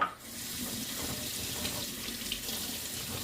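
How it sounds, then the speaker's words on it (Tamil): Tap water runs steadily into an open milk cooker in a home kitchen, a continuous close splashing flow that holds at an even level throughout with no talking. "இந்த மாதிரி திறந்துட்டு தண்ணி ஃபில் பண்ணிவிட்டு விசிலில் போட்டு வச்சுக்கோங்க"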